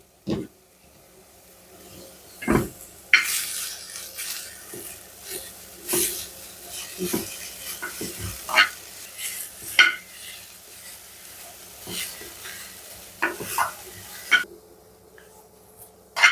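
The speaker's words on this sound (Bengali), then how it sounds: "হাসিনা ফুলগুলোর এখন খালি একটু সেকা দিয়ে নিমু তেল ছাড়া হালকা খোলার মধ্যে" Hasina flowers dry-roast in a pan without oil, heard as intermittent scrapes and knocks of a spatula against the pan with a faint crackle between them, close and uneven.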